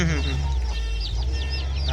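Free-range country chickens on a small Indian farm cluck and squawk repeatedly in short bursts, close and fairly loud over a steady low hum, with a person talking nearby.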